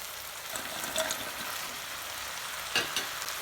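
Shark fish sukka masala being stir-fried in a pan, a steady soft sizzle with a few brief scraping stirs of the spatula, close and alone with no voices.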